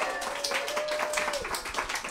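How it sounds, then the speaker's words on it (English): An audience at a live-streamed evening event applauds, giving a dense, continuous patter of clapping for about two seconds. "let's give a round of applause for Carib Trans"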